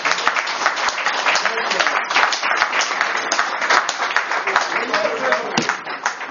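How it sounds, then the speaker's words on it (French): An audience applauds at a press conference of the Benin Pétanque Federation as the president is welcomed. Sustained clapping runs the whole way through, with voices mixed in. "je vous demande d'ailleurs d'applaudir"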